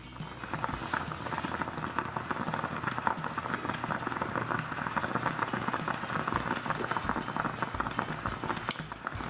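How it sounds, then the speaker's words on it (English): A steady bubbling, gurgling hiss as an IMUSA electric espresso maker brews, constant and close, without pauses. "It's pressurized and it pushes the coffee up and over into this carafe."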